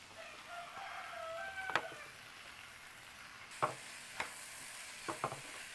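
Tomatoes tipped into a frying pan of baby potato curry give a soft, low sizzle, with a few sharp utensil clinks and stirring scrapes scattered through it, and no voices.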